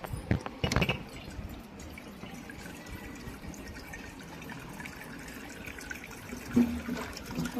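Roughly a glass of water goes into a cooking pot, a short splash and trickle at the start, then quieter kitchen sounds with another brief liquid noise near the end.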